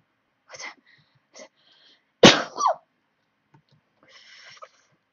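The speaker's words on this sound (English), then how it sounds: "Excuse me for sneezing." A single loud, abrupt sneeze bursts out near the middle, preceded by a few short breathy sounds and followed by a brief trailing vocal noise, with quiet background sounds afterward; no speech.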